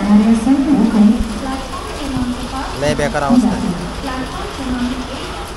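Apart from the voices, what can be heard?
heavy rain falling at Kurla station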